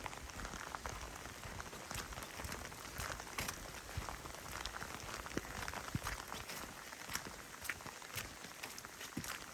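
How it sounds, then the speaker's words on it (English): Small hail pelts down steadily on a forest trail in Oregon's Deschutes National Forest during a thunderstorm, a dense, continuous patter of sharp ticks and taps close around, with no talking. "This is pretty intense hail."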